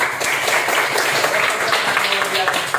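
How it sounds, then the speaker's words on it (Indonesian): Classroom applause as pupils clap for a classmate after an answer, a dense, close burst of many hands mixed with some voices, steady for a few seconds. "tepuk tangan"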